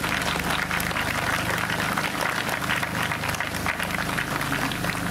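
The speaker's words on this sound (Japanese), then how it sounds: "どう か皆さん拍手でお礼をしてください" Dense, continuous applause from an outdoor crowd at the opening ceremony of the first Hanyu Yosakoi Festival, thanking the neighbourhood association leaders of Hanyu City; loud and unbroken throughout.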